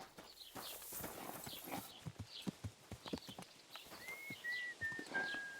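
A horse's hooves in Kingdom Come Deliverance 2 clip-clop in a steady, close walking rhythm, with a few high whistling or whinnying tones toward the end.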